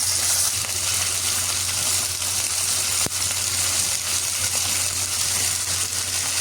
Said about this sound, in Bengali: অনেকটা গ্রিলের মতো করে আমি পোড়া পোড়া করে ভেজে নিব